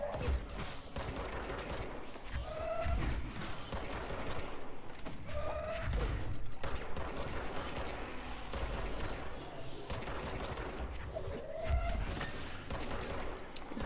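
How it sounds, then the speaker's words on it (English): Gunfire aimed at the player in the video game Control rattles in dense bursts at close range, sustained and loud over a busy game mix, with a few sharp impacts and no talk. "Someone's shooting me."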